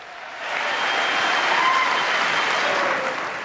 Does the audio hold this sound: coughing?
no